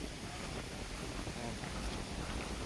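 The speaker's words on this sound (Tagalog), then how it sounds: "Malakas ang hangin kasi bagyo ngayon." Strong typhoon wind buffets the microphone on a fishing boat out on murky, choppy water, a steady broadband roar with surf-like wash and no clear breaks.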